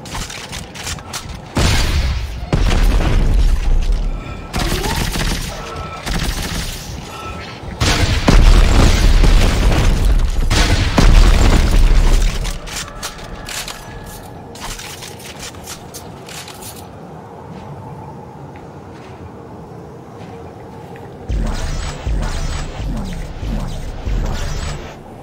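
Gunfire and explosions in the co-op video game Dead Space 3: loud booming bursts and rapid volleys of shots in heavy clusters, easing into quieter stretches before another burst near the end.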